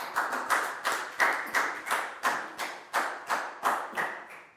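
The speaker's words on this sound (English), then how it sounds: "High five and a big round of applause for Pak Bung, please, guys." Slow, evenly spaced hand claps in a Year 4 classroom, about a dozen distinct strikes at a steady rhythm, fairly quiet and with no talking over them.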